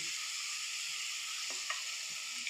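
Green chilies and curry leaves stirred briefly in hot oil in a pan, with a steady close sizzle throughout and a few soft spoon taps and scrapes near the end.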